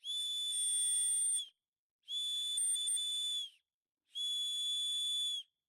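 A metal survival whistle built into the cap of a spear walking staff blows three long, piercing shrill blasts, evenly spaced with short silent gaps between them, loud and close.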